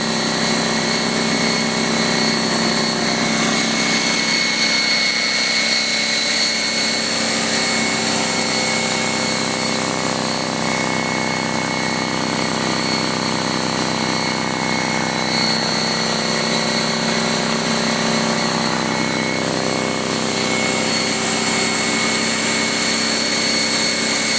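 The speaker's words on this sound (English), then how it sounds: "Just want you to listen to the compressor." A Harbor Freight Fortress 27-gallon, 1.6 horsepower, 200 PSI air compressor runs about a foot away, making a steady, even motor drone with a tonal hum that holds unchanged throughout.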